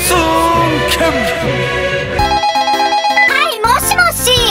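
A telephone rings with a melodic ringtone over background music, loud and close, with bright electronic tones repeating in a patterned rhythm.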